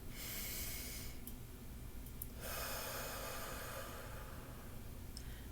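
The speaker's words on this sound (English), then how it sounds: "So I'm going to breathe in." A slow, deep breath is drawn in through the nose during a rib cage self-massage. It is a soft, close, airy inhale with faint room hiss and no talking.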